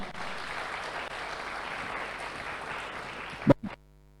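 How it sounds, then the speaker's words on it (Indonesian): Audience applause for a speaker at a BNN presentation session fills the room as continuous clapping that fades away, ending with a few knocks or thumps. "Sekali lagi kita akan aplaus kepada Bapak pemateri kita."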